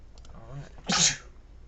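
One sharp sneeze bursts out indoors, preceded by a brief voiced intake, then quiet.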